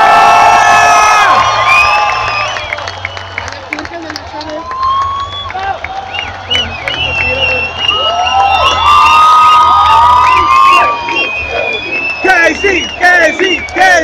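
A concert crowd at a 2018 farewell show cheering and whooping loudly for the rapper, dense high shouts and screams rising and falling throughout, with an amplified voice briefly over the start.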